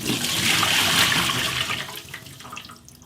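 Water is tipped out of a Pinter brewing keg and pours in a loud, close, rushing gush for about two seconds before thinning to a trickle.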